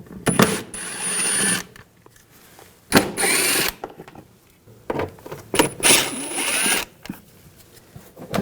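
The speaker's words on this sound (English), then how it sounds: "Using a 8mm socket, we're going to take off some of these bolts for the inner fender well." Bursts of ratcheting and whirring from an 8mm socket working inner fender well bolts loose on a 2000-2006 BMW X5, several short loud runs separated by pauses, close up.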